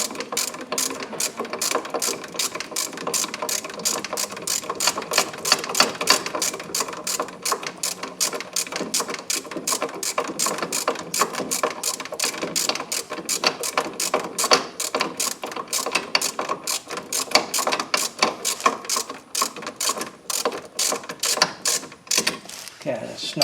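Ratchet tightening ball joint bolts on a 1996 GMC Jimmy RWD during a ball joint replacement, rapid continuous metallic clicking in dense bursts close up for the whole stretch.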